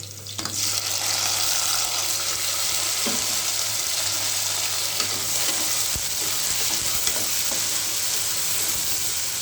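Tomato with ginger and garlic sautés in a hot pan, giving a steady close sizzle with occasional stirring scrapes and no talking.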